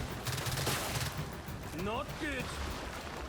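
Rapid gunfire in the Gears 5 video game, a dense burst of shots, with game speech over it and no one in the room talking.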